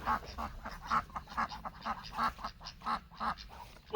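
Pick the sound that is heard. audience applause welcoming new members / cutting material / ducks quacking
ducks quacking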